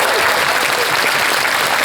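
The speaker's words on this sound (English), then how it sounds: "Give her a big round of applause." An audience at a Star Trek Discovery fan convention panel in Toronto claps steadily in a dense, loud wash of applause that carries on throughout without a break.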